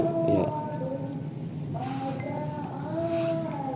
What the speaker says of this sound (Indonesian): Itu bunyi rebabnya. Itu bunyi rebabnya.